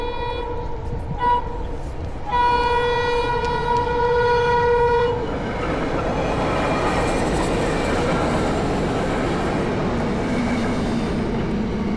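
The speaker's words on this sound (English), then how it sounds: "but I just want you guys to see this train." Train passing close by a trail, with a few long horn blasts at first, then a steady loud rumble and clatter of rail cars rolling past.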